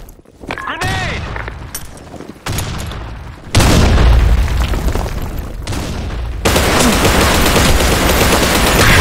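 Grenade explosion and gunfire in the Blackshot shooter game: deep booms and rattling automatic bursts in loud, abrupt blocks with brief lulls between them.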